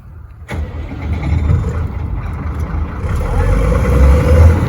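A tractor engine cranks and catches after a short pause, then settles into a loud, close, steady running rumble that builds slightly, with no talking.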